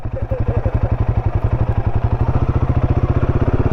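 A Royal Enfield motorcycle engine thumps with a steady, rapid rhythmic beat, loud and close, idling and revving slightly throughout.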